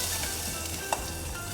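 Salmon sizzling in a wok with only a little oil, a steady soft frying hiss with one small pop, close and without talk.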